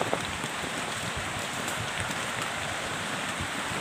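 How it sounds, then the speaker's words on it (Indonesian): Steady broadband rushing water, a constant roar of falling water close by with no voices. "Ya ini ada air terjun suaranya."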